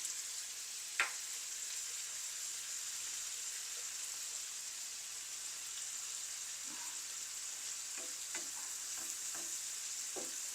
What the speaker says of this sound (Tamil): இதெல்லாம் நல்லா கொஞ்சம் வதங்கட்டும்